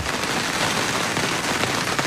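Rain falling in a dense, steady patter on surfaces all around, loud and continuous, with no voices.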